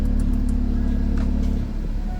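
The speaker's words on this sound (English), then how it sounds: "You hear the exhaust? There are active valves in the exhaust." Tuned 760 awhp Audi RS3 with an active-valve exhaust, revving hard up close: a continuous, loud, deep engine and exhaust roar that holds steady, then drops slightly near the end.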